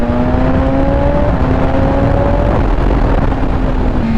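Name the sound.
BMW S1000RR motorcycle accelerating under throttle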